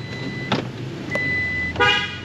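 Horn of a 2021 Toyota Tacoma honks in short, separate toots over a low engine idle, close and loud, with no one speaking.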